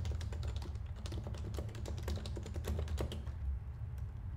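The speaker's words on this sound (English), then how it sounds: "when I'm typing or when I'm coding, when I'm programming" Rapid typing on a computer keyboard during coding, close and clear, with a dense run of crisp key clicks that thins out toward the end; no voices.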